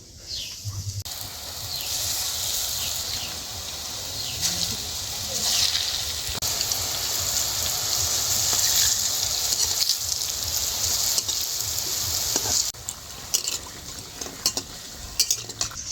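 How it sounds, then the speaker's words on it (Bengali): Lentil fritters (rosh bora) fry in hot oil in a kadai, with a loud, continuous bubbling sizzle and some stirring and scraping noises, briefly dipping in places. "এইবারে বড়াগুলো ভেজে নেব। তেলটা গরম হয়ে গেছে, তেলের মধ্যে দিয়ে দিচ্ছি।"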